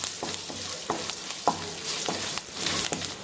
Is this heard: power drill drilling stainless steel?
no